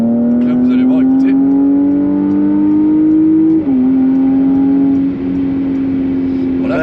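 A Porsche engine in Sport Plus mode holds a loud, steady, rising drone close by, dipping briefly once before settling, with faint voices in the background.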